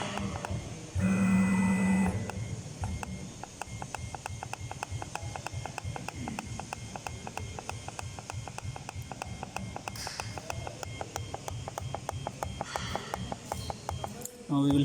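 CNC router with an A11 DSP controller running its stepper motors, a rapid steady ticking pulse that continues throughout, with a few electronic beeps and a person talking over it.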